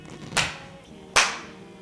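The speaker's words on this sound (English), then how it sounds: "Let's have a clap." Two sharp, single hand claps a little under a second apart mark the start of filming for an interview, each crisp and close with a brief decay into a quiet room.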